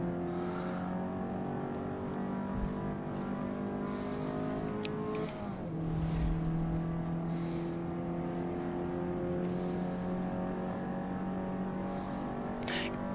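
Race car engine in a racing video game running with a rear spoiler on a circuit, a steady loud droning whine held throughout, with a brief dip and gear-shift drop near the middle before the tone settles and continues.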